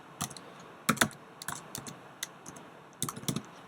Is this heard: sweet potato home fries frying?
no